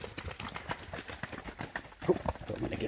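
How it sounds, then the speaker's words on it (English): Horses run around close by on open public land during a sika deer hunt, giving irregular clip-clop hoofbeats and thuds that are fairly faint, with a few louder hits near the end. "Getting surrounded by horses."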